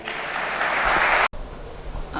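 An audience at a humorous poetry gathering in Ambajogai claps in a dense burst of applause that cuts off abruptly, followed by quieter room noise.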